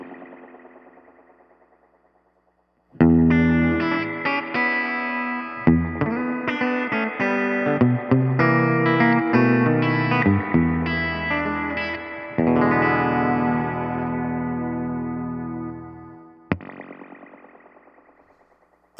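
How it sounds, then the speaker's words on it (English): Guitar played through a True Spring Reverb pedal with its drip machine engaged, giving a drippy spring echo. A decaying tail fades into silence, then sustained distorted chords ring with clear echoes, ending in another long reverb tail. "I also love the drip machine, which gives you this cool drippy echo effect."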